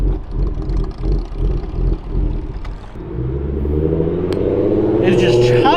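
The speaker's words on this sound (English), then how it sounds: "And the car is literally just chopping away." S550 Ford Mustang with a ghost cam tune idling in traffic, a deep, lumpy engine rumble with an uneven chopping pulse that grows louder toward the end.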